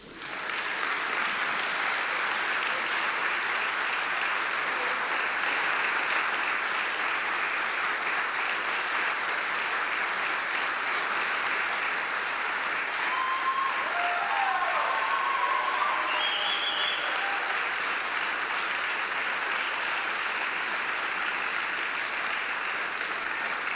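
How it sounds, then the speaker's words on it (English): Audience applause at the South King County Fire Training Consortium firefighter graduation: loud, dense, sustained clapping from a large crowd filling a hall, steady throughout with faint cheers rising briefly near the middle. "I would like for you to just give them a huge round of applause as they come to the stage"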